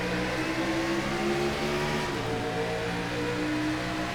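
Race car engines in iRacing at Las Vegas roar together at the green flag, a dense, steady, loud drone of many cars accelerating with harmonic engine whine shifting slightly in pitch, no talk over it.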